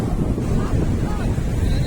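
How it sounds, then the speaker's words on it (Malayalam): Waves wash up the shore at Ezara beach in Kannur, Kerala, while wind rumbles loudly against the microphone, a continuous dense roar with no clear breaks. "ഇങ്ങത്തോളം തിരമാല അടിച്ച് കയറുന്നുണ്ട്. കാറ്റ് വീശി തുടങ്ങി, കാറ്റുണ്ട്."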